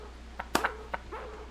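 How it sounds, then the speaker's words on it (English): A dog in the Harvester PC game gives a few short, sharp barks and yelps spaced irregularly over a low steady hum, fairly faint and with no talking. "Once he gets barking, a good piece of meat is the only way to shut him up."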